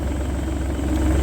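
A tractor engine runs at a steady low rumble, holding a constant drone near and fairly loud with no voices, as its revs sit low before the PTO is disengaged.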